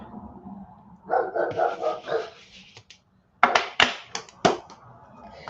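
A dog barks nearby in a quiet indoor room, a run of several quick barks, a brief pause, then a second burst of sharp barks and yips.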